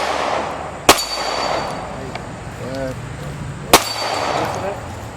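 Two sharp, loud gunshots about three seconds apart at a rural family shooting range, fired outdoors with faint background noise and a short burst of birdlike chirps between them.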